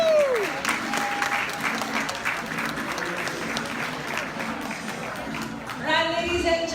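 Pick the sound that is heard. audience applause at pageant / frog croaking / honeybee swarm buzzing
audience applause at pageant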